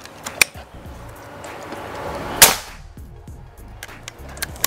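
A single sharp, cracking shot from a Predator Bocap Black Army Phantom PCP air rifle stands out among faint clicks and mechanical rattling, with a few smaller ticks around it.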